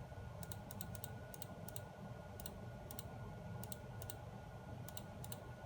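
Password keystrokes tapped on a keyboard while setting up an NVR come as scattered, faint, crisp clicks in small bursts over a steady low background hum, with no voice.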